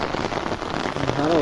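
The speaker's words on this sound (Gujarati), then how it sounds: "સારો વરસાદ છે." Heavy rain pours down in a dense, steady hiss drumming on surfaces, with a voice briefly starting up near the end.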